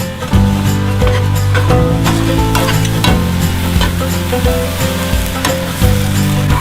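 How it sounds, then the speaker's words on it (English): Venison sausage and onions brown in a pan, with a loud, continuous sizzle and a busy clatter of stirring and scraping throughout. "So we're just going to continue browning all this for about 5 minutes, or really until the onions are about translucent."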